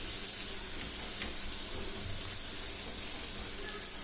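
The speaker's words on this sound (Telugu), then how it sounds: "రెండు వైపులా నూనె కానీ నెయ్యి కానీ వేసుకొని కాల్చుకోవాలి." Mango paratha frying in oil or ghee on a pan gives off a steady, soft, even sizzle with a faint crackle, continuous and without talk.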